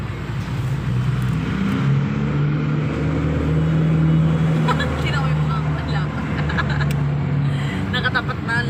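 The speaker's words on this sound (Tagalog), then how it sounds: "Maraming sasakyan." Heavy street traffic with many cars, a constant low rumble of engines passing nearby, with people talking over it throughout.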